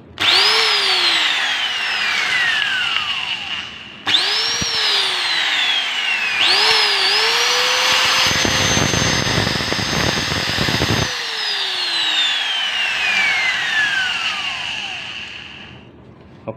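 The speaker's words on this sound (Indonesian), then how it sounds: "motor gerinda udah bagus ya dan sudah bisa hidup" The motor of a reconditioned Maktec MT90 angle grinder spins up with rising whines, is switched off and on several times, then runs at a loud, steady high-pitched whir before winding down.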